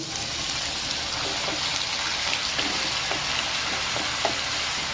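Garlic frying in hot oil in a pan for prawn masala, a dense continuous sizzle with faint crackles, close and steady throughout.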